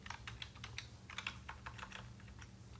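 Steady typing on a computer keyboard, quick light key clicks at an uneven rhythm, close but quiet, over a low hum with no talk.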